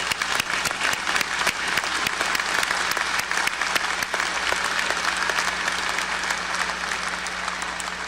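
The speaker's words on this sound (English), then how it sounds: "Join me in applauding all these distinguished students." University spring commencement audience applauds distinguished graduating students, a large crowd clapping continuously and evenly for the whole stretch, full and reverberant with no talk over it.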